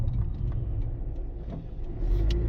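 A Dodge Charger Hellcat in indigo blue drives along with a steady, low engine rumble and road noise, holding fairly even throughout and swelling slightly near the end, with no talking.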